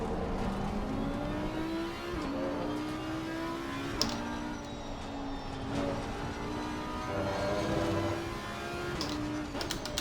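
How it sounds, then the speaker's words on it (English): Cup race car in the ACC racing game at Misano, its engine droning and rising through the gears with repeated upshifts and pitch dips, a continuous high-revving whine with no talk. "The Cup car is insane. It sounds so good."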